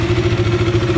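A KTM RC 200 motorcycle idles just after a cold start, a close, steady single-cylinder thrum with a rapid even pulse and no talk over it.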